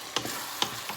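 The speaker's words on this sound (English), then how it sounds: "Now I'm gonna add the fresh tomatoes, because the meat is already very well brown and incorporated really well with the onions." Fresh tomatoes drop into a pan of browned meat and onions under a steady broad sizzle, with a few soft clicks and scrapes spaced through the short moment.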